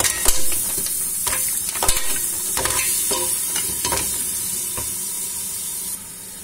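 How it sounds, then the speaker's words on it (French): Mussels clatter and scrape in a pot as they are stirred, with repeated knocks and a crackling sizzle underneath, fairly close and busy. "Maintenant, je vais mettre mes moules directement."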